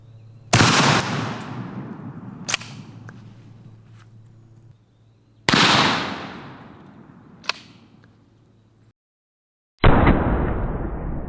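A Benelli shotgun fires homemade ceramic slugs outdoors, three loud separate booms each trailing into a long echoing decay, with sharp fainter cracks following the first two shots.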